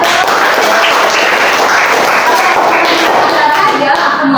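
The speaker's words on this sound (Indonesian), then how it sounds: "Tepuk tangan lagi." A classroom of grade 8 students in an Islamic school Quran and Hadith lesson breaks into applause, a dense, steady clatter of many hands that fills the whole stretch at close range.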